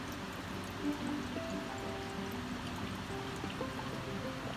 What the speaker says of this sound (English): I am going to add in about 3 tablespoons of Worcestershire sauce